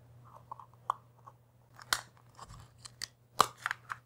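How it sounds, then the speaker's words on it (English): A razor knife cuts a slot into a plastic end cap for a CD spectroscope, producing close, quiet scratchy scoring strokes and several sharp clicks with a low steady hum underneath. "I'm going to use my razor knife to actually cut out the slot"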